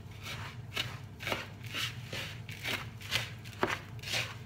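Chilled Nutella mixture is stirred in a bowl with a utensil, giving a steady series of close, sticky scraping and tapping strokes, about two per second, with no talking.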